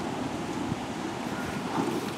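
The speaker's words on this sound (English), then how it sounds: "it's windy tonight too, so that actually kind of makes it look cooler" Night wind blows steadily outdoors, a soft, continuous broadband rush with gentle gusts and no voices, faint and distant throughout.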